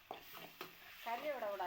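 Rasam ingredients stirred in a pot, with a few short scraping strokes followed by a soft sizzle, faint and close with no talk.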